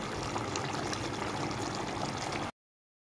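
Water and kewra water are poured into a pan of fried spice paste for a vegetarian biryani, making a continuous splashing rush for about two and a half seconds before it stops.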